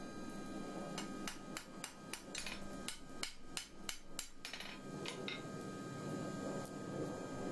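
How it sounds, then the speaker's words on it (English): A hammer forging steel for a lantern bracket rings out in a quick series of sharp metallic blows with a bright ring after each, then falls back to a faint steady hum, all close by. "you want to keep your hammer moving and the steel moving"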